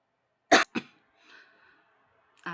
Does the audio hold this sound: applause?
no